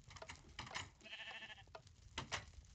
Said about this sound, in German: Und ich habe gerade Spaß daran, Schafe zu erstellen.